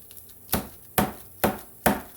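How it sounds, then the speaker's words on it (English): A garlic bulb struck upside down on a cutting board, four sharp, close knocks at a steady pace, each a short woody thud with nothing else between them. "we're going to hit it on the cutting board upside down"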